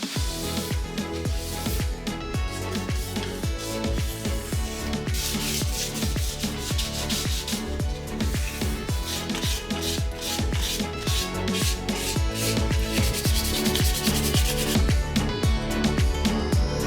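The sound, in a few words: sanding with fine-grit sandpaper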